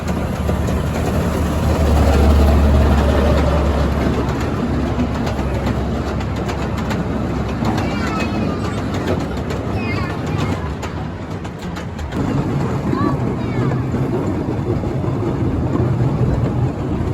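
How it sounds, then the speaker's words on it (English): A small amusement train ride in a Pueblo city park rumbles along smooth track, with steady low engine drone and faint clickety-clack filling the whole ride, close and loud. "let's go on the train."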